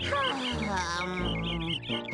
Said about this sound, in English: Hey, do you hear those birds chirping?